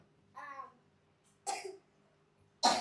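Three separate coughs from a child, each a short harsh burst with pauses between them, close and clear against a quiet background.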